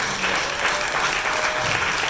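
Church congregation applauding, a short burst of dense, loud, close clapping.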